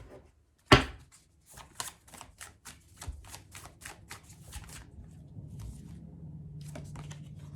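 Tarot cards riffled in a quick run of crisp, evenly spaced flicks after a sharp opening slap, close and fairly loud, then a few softer card pulls over a low background hum.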